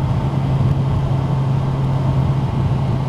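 A motorcycle engine drones continuously while riding with a pillion passenger, a steady low rumble mixed with road and wind noise, close and loud throughout.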